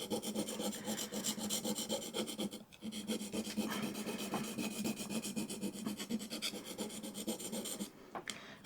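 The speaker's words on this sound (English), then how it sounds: "Then we move on to the next stone and just roll it through," A plane iron rubbed back and forth on a sharpening stone, rolled across the surface to work the edge flat, giving a steady close abrasive scraping with a brief pause partway through.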